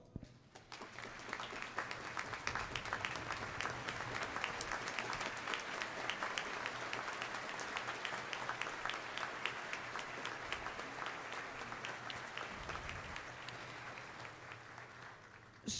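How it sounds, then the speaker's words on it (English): A large graduation audience, risen to its feet, claps long and steadily for families and teachers. The crisp, crowded clapping holds at an even level throughout and eases only slightly near the end. "I ask you to rise to give them a round of applause"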